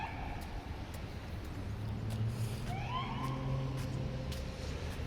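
A police car siren wailing in the distance while walking around downtown Halifax from Scotia Square toward the South End, its rising and falling tone faint beneath steady street and traffic noise.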